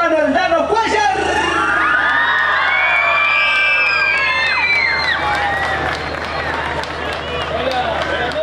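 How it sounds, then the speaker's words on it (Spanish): A crowd at a carnival show in La Merced cheers, whoops and shouts loudly, with children's voices rising over dense background noise. "Fuerte los aplausos"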